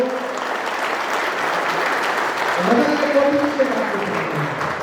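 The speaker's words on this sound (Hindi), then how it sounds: "मुझे एक बार ताली बजा करके मुझे माहौल दें" Audience applause at an evening of poetry in Riyadh, a loud, sustained wash of clapping from a large crowd, with a voice and some cheering rising over it midway.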